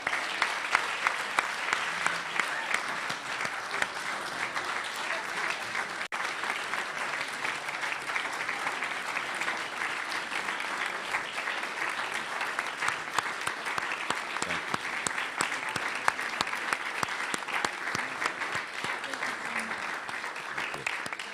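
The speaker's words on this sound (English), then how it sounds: "How about a round of applause for our guest speaker today?" Sustained, dense applause from a National Press Club luncheon audience for guest speaker Gary Sinise, steady and even throughout with no talk over it.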